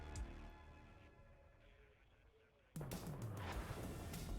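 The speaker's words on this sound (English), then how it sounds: "There's the artillery again at the back." Artillery fire in the WARNO real-time strategy game: muffled distant booms and rumbling, then an abrupt, loud stretch of dense firing and blasts with crackling impacts, heard alongside talk.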